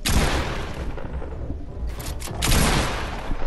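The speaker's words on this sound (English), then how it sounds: "Or I can literally just shoot you down and be petty." Rapid gunfire in the video game Fortnite, dense overlapping bursts of shots that stay loud and continuous with a heavier surge near the end.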